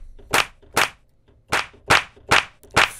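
Drum machine clap sample from the Cone Blaster kit, six sharp dry claps played one after another at a steady, slightly uneven pace, each with a short bright tail, alone in silence.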